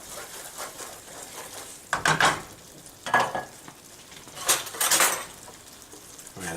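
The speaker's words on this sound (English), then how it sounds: "Mix this up all nice." Shrimp and mushroom fusilli with parsley is stirred in a pan, a low frying hiss broken by several bursts of scraping and clattering utensil strokes, close and without talking.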